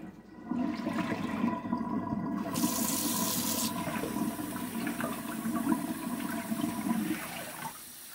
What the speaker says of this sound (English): Okay, let me let this water out.